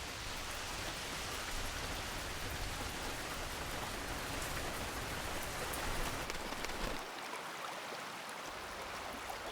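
Steady rain falling on a forest spring in the wooded hills behind a city, a dense continuous hiss of drops on water and leaves, even and fairly quiet throughout.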